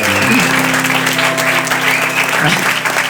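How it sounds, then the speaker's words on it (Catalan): Audience at a live book-reading tour event in Santa Coloma de Farners applauding a guest, a loud, continuous clapping with music or a hum underneath. "Un fort aplaudiment pel nostre convidat d'avui"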